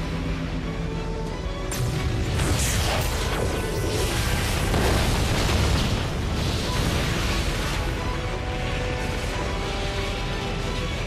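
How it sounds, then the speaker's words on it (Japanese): A long, loud anime explosion effect: a broad roaring blast that swells and rumbles steadily for about eleven seconds without fading, with no talk over it. "同じ座標で爆発を確認。"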